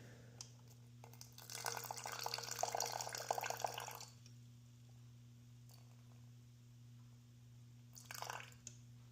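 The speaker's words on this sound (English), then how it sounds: "And 58 grams of water." Water is poured into a sourdough starter in a quiet kitchen, a soft splashing trickle lasting a few seconds, followed by a brief second splash near the end.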